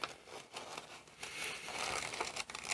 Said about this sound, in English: So I just have to make do with a pair of scissors.